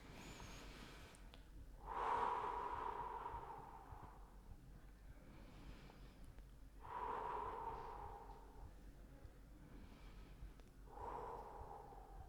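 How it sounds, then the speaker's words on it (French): Three slow, deep breaths are blown out through the mouth, each a soft airy exhale several seconds long, spaced evenly with quiet pauses between them and no talking. "on fait 3 respirations profondes en soufflant par la bouche"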